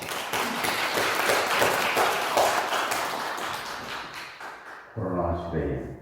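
A church congregation applauds at a Sunday worship service, a dense sustained wash of clapping that thins out near the end before a voice begins speaking.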